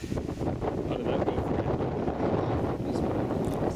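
Wind buffets the microphone in a loud, continuous rumbling roar, with gusts swelling and easing.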